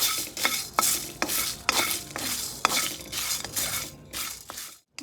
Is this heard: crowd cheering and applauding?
no